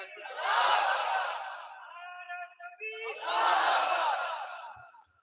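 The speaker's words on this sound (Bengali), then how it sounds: "তাকবীর মারো তো দেখি, এই তাকবীর" A large crowd roars a takbir chant in two big unison shouts, each swelling and fading over a couple of seconds, separated by a short gap with a lone voice in between.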